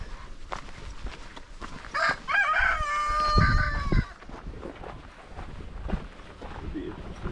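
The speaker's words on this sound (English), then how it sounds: "At least we got to see the chickens, right?" On a farm along a hiking trail near Tholaria, Greece, a rooster crows loudly and nearby while chickens cluck around it, with people chatting over the birds.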